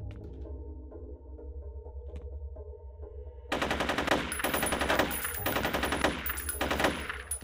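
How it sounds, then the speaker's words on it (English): Gunfire from an enemy fight in the video game F.E.A.R. A low ambient hum gives way to loud, rapid automatic bursts that repeat in heavy volleys. "You don't need to shoot him that many times."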